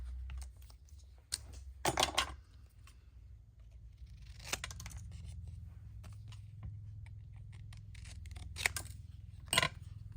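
Scissors snip through paper to trim a cut-out figure for a craft tag, several short close cutting bursts spaced apart over a low steady background hum.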